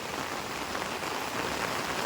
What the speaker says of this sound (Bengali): বৃষ্টিও শুরু হয়েছে